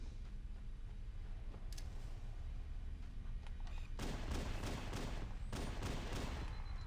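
Covenant enemies firing plasma pistols in Halo: Combat Evolved, a quiet run of bursty energy shots that grows denser and louder partway through, mixed with other combat noise.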